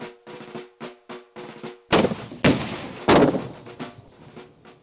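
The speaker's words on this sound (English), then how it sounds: "Participants were firing cannons from the Civil War and Revolutionary War eras." Historic Civil War and Revolutionary War era cannons firing outdoors at a living-history event: a run of rhythmic muffled reports, then three louder booming blasts with rumbling tails, heard without any voices.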